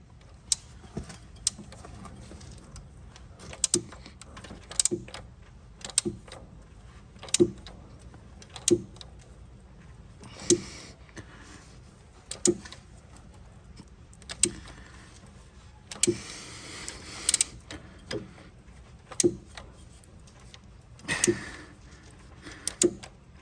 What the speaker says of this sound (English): So I'm going to turn the engine over using the nut until the crank is lined up with the mark behind.